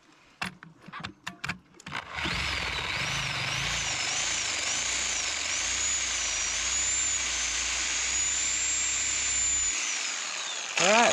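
A Harbor Freight Sawzall reciprocating saw starts after a few sharp clicks and knocks, then runs loud and steady with a high buzzing whine for about nine seconds before stopping.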